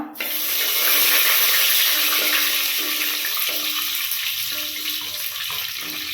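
Whole bay leaf, cinnamon, cardamom and cloves frying in hot oil for pulao, giving a steady, close broadband hiss that fades slightly, with no talk.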